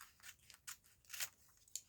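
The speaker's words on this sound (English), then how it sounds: "I'm going to just run my scissors down the edge" Scissors run along the edge of magazine paper and tape, giving faint, crisp snipping and crackling strokes in an uneven series of short bursts, close and quiet with no talk.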